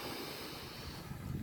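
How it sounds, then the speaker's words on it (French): Ocean waves wash onto a beach in Senegal as a steady, faint rush of surf, heavily blended with wind noise buffeting the microphone, with no voices present. "et du bruit des vagues."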